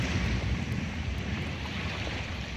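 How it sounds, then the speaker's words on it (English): Ocean wave relaxation sounds played back through a Google smart speaker: a steady, loud wash of surf and rushing water with a continuous roar and no voices. "Playing relaxation sounds. Ocean."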